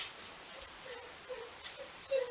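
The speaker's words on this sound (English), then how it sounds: "I apologize for the dog." A dog whimpers softly with a few short, high whines spread across a couple of seconds, faint and alone, with no talking.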